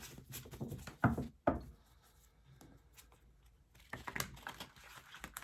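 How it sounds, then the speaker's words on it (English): Quiet riffling and soft slaps of tarot cards being shuffled, in irregular bursts with brief pauses, close and low in volume. "cards don't want to shuffle, so there has been some tension."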